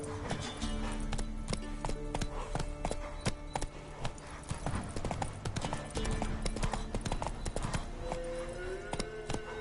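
Galloping horse hooves from The Witcher video game, a steady, loud clip-clop rhythm throughout with occasional snorting, over game ambience.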